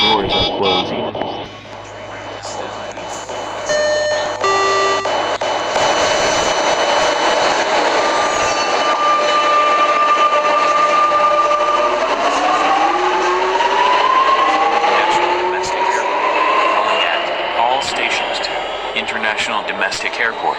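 A subway train in the Roblox video game rumbles and whines as it moves, with rising and falling tones like a train accelerating through a station, loud and continuous, with automated announcements heard over it.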